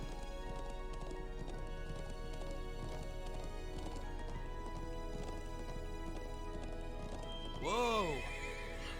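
Horse in the video game Trails of Cold Steel, its hooves clip-clopping steadily under game music throughout, then one loud whinny near the end.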